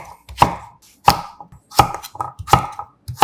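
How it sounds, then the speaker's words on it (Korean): A knife chops a halved, seeded kabocha squash into large chunks on a cutting board, with five sharp, evenly spaced thuds close up. "듬성듬성 큼지막하게 잘라주세요."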